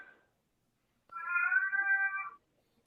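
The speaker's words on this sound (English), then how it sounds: "I think I can still hear that cat that Steve has messing up his." A cat gives a single clear, drawn-out meow lasting just over a second, fairly close and alone, with silence before and after.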